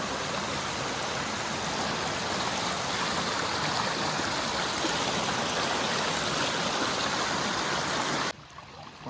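A shallow stream of cold spring water below Opalgala Falls, a dense continuous rush and burble heard close and steady, cutting off abruptly near the end.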